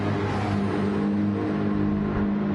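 McLaren race cars in Gran Turismo 7 on the Interlagos circuit produce a continuous, steady engine drone with a sustained tonal hum, heard alone without talk.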